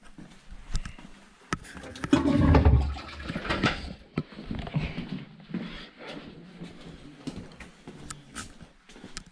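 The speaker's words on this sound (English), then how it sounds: "Toilets in here still flush." A toilet flushing in an abandoned sports college building, a short gushing burst that peaks and fades within a couple of seconds, followed by quieter rattling and shuffling in the room.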